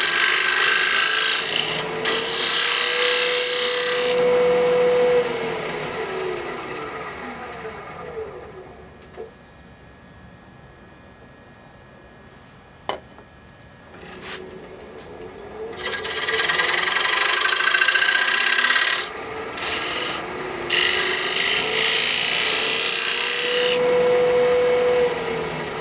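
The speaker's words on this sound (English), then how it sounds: "I'm going to crank the Z up and put a couple of test cuts on it" Lathe tool taking test cuts on an ambrosia maple jar, a rasping, scraping wood-cutting noise in two loud bursts at the start and end with quieter whirring of the spinning lathe between.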